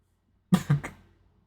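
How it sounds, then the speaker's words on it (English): Three short, subtle coughs in quick succession come from a character in the anime Nisekoi, close and clear, followed by fading breathy trailing sound in otherwise near silence. "Subtle coughing, or whatever you want to call that."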